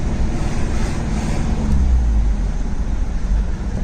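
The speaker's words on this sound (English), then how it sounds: "Shifted to third at 1000 RPM." Mitsubishi Pajero with a modified hybrid clutch pulls along in third gear at low revs, a loud, steady low-frequency engine and road rumble with broadband noise throughout, no voices.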